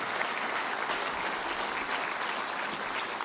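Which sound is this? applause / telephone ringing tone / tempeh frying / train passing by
applause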